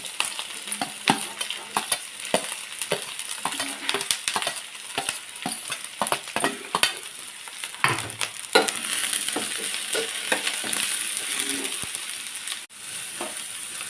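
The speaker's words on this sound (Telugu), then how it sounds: "ఆయిల్ కాగిందండి, ఉల్లిపాయలు వేద్దాం. ఉల్లిపాయలు వేసి వేయించుకుందాం." Sliced onions fry in hot oil, a dense, loud, close sizzle that runs throughout, broken by frequent sharp scraping strokes of a spatula stirring against the pan.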